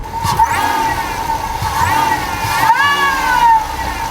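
A supercharged Mustang fitted with a carbon fiber supercharger lid revs loud and close, with a rising and falling whine layered over the engine's drone through several throttle blips, and voices talking over it.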